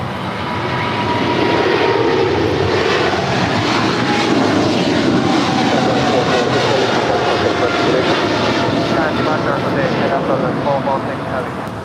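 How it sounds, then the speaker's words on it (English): A China Southern Cargo Boeing 777 freighter departing LAX swells into a loud, deep engine roar that holds steady with a rising whine before easing slightly at the end, voices murmuring beneath. "This is China Southern Cargo 446 departing to Shanghai on a 777 freighter."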